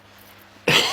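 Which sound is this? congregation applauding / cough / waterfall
cough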